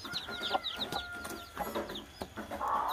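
A hen clucks in short, repeated bursts amid other chickens, faint and somewhat distant, with scattered chirps and soft background noise.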